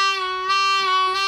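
Harmonica holding one note while the pitch slowly alternates low and high, a deliberately slowed vibrato with a steady, even swing, close and solo with no voice.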